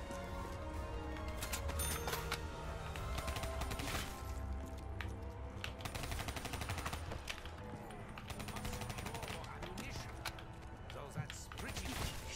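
Rapid bursts of automatic gunfire from Black Ops 3 Zombies on the Origins map, dense crackling shots throughout with players talking over the action.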